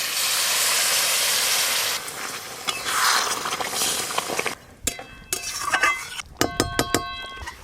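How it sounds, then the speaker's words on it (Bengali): Water poured into a hot pan of frying chicken chaap for biryani, starting with a steady loud sizzling hiss that fades, then clinks and scrapes of a utensil against the pan near the end. "এবার পরিমাণ মতো জল দেবো।"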